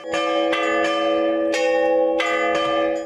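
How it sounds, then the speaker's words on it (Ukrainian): Church bells across the city churches of Ternopil, Ukraine ring out in overlapping, resonant strikes, several peals a fraction of a second apart, with long shimmering decays filling the air. "Одночасно у всіх міських церквах калатили дзвони."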